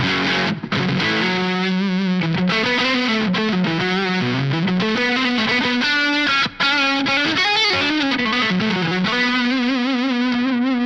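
Crunchy overdriven electric guitar through a Line 6 Helix drive with an aggressive noise gate plays a bluesy riff with bends and chords, loud and close, cutting off cleanly between phrases.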